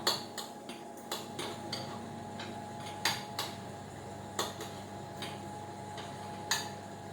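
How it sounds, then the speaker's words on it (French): Utensil repeatedly clinking against a pot while chocolate and olive oil are stirred to melt for a vegan chocolate cake, sharp irregular taps over a steady background hum, close and moderately loud. "Donc je remue pour que ça fonde plus rapidement."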